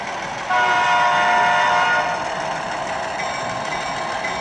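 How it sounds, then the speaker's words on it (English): The horn of a CN switcher model locomotive on a train-show layout plays through its onboard speaker, a sustained tone of about a second and a half that drops to a quieter continuing sound amid room noise. "Can I hear the horn?"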